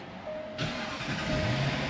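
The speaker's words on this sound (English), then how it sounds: "Key fob, starting the engine" A Jaguar XF engine cranks and catches after a key fob start, then settles into a steady idle close by.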